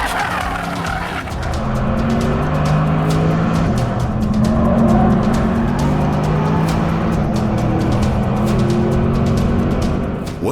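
A 630 HP facelift Porsche Panamera Turbo is driven hard on the Nürburgring Nordschleife, its engine roaring loud and close as the revs rise and shift, with tires squealing through the corners.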